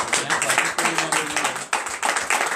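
A congregation at a morning prayer gathering claps in loud, rhythmic bursts while voices shout acclamations over the beat.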